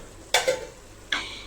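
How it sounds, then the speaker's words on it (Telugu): Masala, chili powder and leaves fry in hot oil for a Rayalaseema tamarind-leaf mutton dish, with two short bursts of stirring scrape and sizzle separated by a quiet pause. "ఇప్పుడు ఈ వేసిన ఆయిల్లో ఆ మసాలాలు, ఆ కారం, ఆకు అదంతా బాగా ఉడికిపోవాలి, పచ్చి వాసన పోయేలాగా మనం వేయించుకోవాలన్నమాట."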